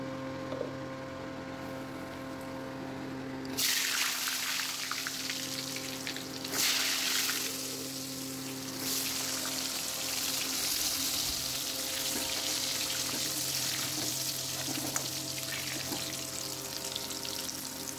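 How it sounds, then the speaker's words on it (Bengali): Potato pieces frying in hot oil with turmeric. After a quiet opening a few seconds in, a broad sizzling hiss begins and carries on steadily under a low background hum. "আলুটাকে হলুদ দিয়ে আগে একটু ভেজে নিলাম"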